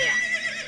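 In the Nintendo 64 game Zelda: Ocarina of Time, a horse gives a single short, bright whinny with a wavering, descending pitch, heard close and clear with no talking over it.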